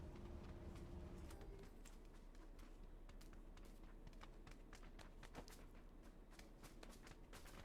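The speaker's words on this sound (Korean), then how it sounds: "발소리 뒤쪽에서." Footsteps sound behind the player in a driving video game, rapid, close and rhythmic, with sharp clicks running steadily through a constant low engine-like hum and no talking.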